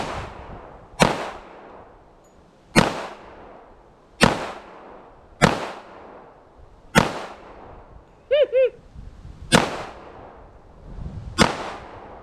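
Seven loud, sharp gunshots from a Kimber 1911 Custom II LW Nightstar pistol crack out at an outdoor range, spaced about one to two seconds apart, each with a short echoing tail; a brief voice cuts in between shots.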